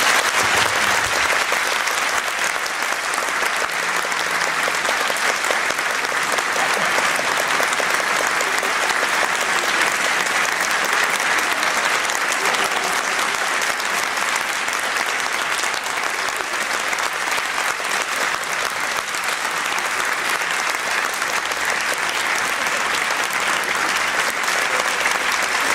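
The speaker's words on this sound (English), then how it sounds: "Let's give her a rousing applause" An audience at a 2012 piano recital for pianist Helga Hulse applauds steadily and densely for about twenty-five seconds, loud and close throughout, with no voices.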